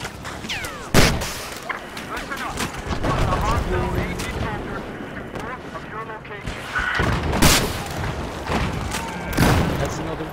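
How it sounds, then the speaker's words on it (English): Tank battle in Battlefield 4 multiplayer, with booming cannon shots, explosions and scattered gunfire in a dense, continuous din, sharp loud blasts standing out, and players talking over it. "Battle of the tanks."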